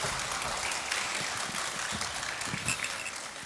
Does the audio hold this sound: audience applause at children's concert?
yes